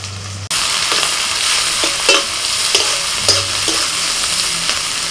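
Onions and three or four green chillies fry in hot oil over a strongly burning stove, giving a loud, steady sizzle with occasional scraping stirs cutting through, close and with no talking.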